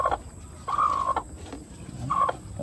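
A broody hen settling on eggs in a farmyard gives a few short, moderately close clucks at a steady rhythm. Quiet rustling and background noise fill the gaps between calls.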